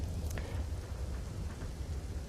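Heavy monsoon rain in Sabarkantha, Gujarat, a steady dense hiss of rainfall with a low rumble underneath, constant and fairly loud, with no talk.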